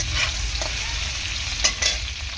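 Stirring fish and hinche greens with salt in a hot pan, a steady frying sizzle with a few soft scraping strokes, close and alone.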